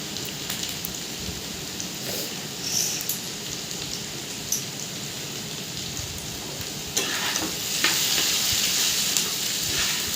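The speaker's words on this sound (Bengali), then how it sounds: "এই যে আলু কেটে ভাজা বসিয়ে দিয়েছি।" Cut potatoes fry in a pan for aloo bhaja, giving a continuous close sizzle with scattered pops and crackles that grow slightly louder toward the end.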